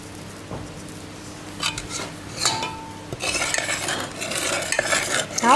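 A wooden masher works a coffee mixture in a bowl, giving soft thuds and scraping strokes that grow into dense, rapid rubbing and clattering in the second half, close and without talk.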